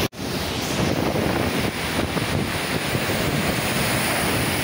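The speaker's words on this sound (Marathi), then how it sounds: "तुम्ही आता ह्या लाटांचं प्रमाण बघा की कशा प्रकारे लाटा आहेत त्या बघा." High-tide sea waves surge along the Mumbai shore near buildings after rain, a loud, continuous roar of surf mixed with wind buffeting the microphone, no voices.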